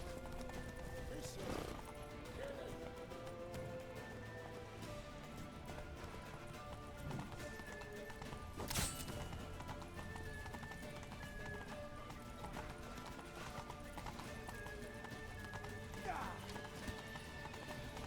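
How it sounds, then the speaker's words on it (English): Steady clip-clopping hoofbeats of a horse galloping in the video game Witcher 3 Wild Hunt run throughout, with an occasional whinny, beneath urgent character voices and game ambience. "Grab a horse to the temple!"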